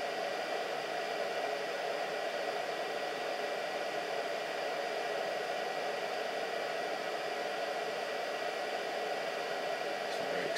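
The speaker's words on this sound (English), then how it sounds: "And this is working as a zero force type motor." A pulse motor running on source feedback current produces a steady, even whirring hiss that holds unchanged and fairly quiet throughout, with no talk over it.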